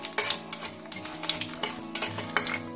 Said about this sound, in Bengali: খুব ভালো করে ফোড়নটা ফ্রাই করে নেব।